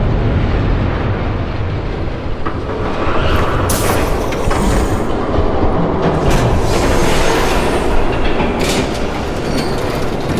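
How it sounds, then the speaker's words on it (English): A train rumbles loudly and close by in the video game Batman: The Telltale Series. Heavy low rolling noise and rhythmic wheel clatter go on without a break, with a few sharp metallic squeals rising above them. "There's a train coming."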